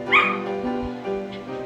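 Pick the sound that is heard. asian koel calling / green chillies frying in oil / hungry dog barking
hungry dog barking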